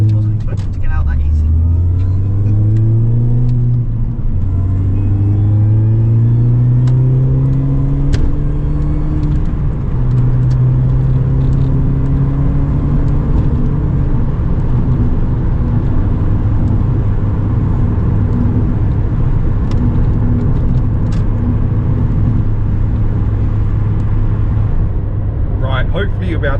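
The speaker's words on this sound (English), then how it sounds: "Hopefully you'll be able to hear me over the engine" Loud small engine of a Mini car droning from inside the cabin while driving, revving up and shifting through gears with rising and falling pitch, then settling into a steady hum.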